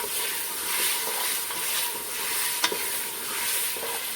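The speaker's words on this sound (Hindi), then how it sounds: "अब हम इसमें शामिल कर दिए हैं आलू थोड़े से भून लेते हैं अच्छे तरीके से।" Potatoes frying in masala for a potato and cauliflower curry, a steady close sizzle with spatula stirring scrapes and a single sharp clink, no speech.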